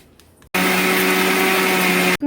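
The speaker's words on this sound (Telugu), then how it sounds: "అందుకని మిక్సీ పెట్టుకుందాం" A mixer grinder grinds chalimidi laddu mixture in a kitchen, starting abruptly into a loud, steady high whir that runs for under two seconds before cutting off.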